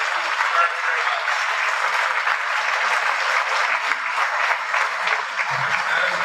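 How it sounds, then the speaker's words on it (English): An audience applauds at the opening ceremony of a light rail train line, steady even clapping at moderate distance throughout with no speech over it. "rise up and get a round of applause for these men and women."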